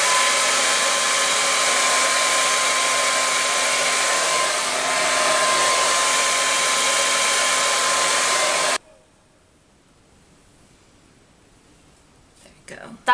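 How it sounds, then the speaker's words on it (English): Handheld hair dryer blow-drying long hair away from the face, a loud steady roar that runs for about nine seconds and then cuts off abruptly, leaving near silence with a few small handling clicks at the end. "I'm taking it and I'm sort of blow drying it away from my face."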